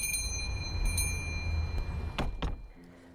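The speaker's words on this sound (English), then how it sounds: "opening the door, the cacophony of the bells and the wind filling the air" Shop door bells jingle and ring as a door swings open, with a steady low rush of wind underneath; the ringing comes in a few bright strikes over the final second before fading.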